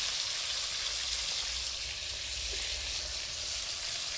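Fish frying in a pan for a fish curry with pointed gourd, a continuous hissing sizzle holding steady at moderate loudness with no talk over it.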